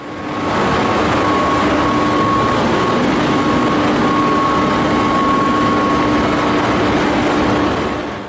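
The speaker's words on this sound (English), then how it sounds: "let's look at how the 1986 chairlift drives its motor" A 1986 chairlift DC drive motor runs at a steady, loud level, giving a constant low hum with faint tonal whines that hold throughout and no voices.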